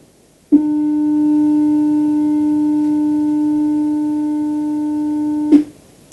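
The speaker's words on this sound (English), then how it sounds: "I'm going to play this 300 hertz pure tone." A steady 300 hertz pure tone starts abruptly, holds at an even level for about five seconds, then cuts off.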